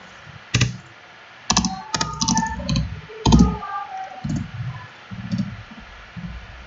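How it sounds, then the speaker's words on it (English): C++ code is typed on a computer keyboard at close range, with irregular bursts of crisp key clicks and short pauses between flurries. "This is the C++ command that I'm typing right now."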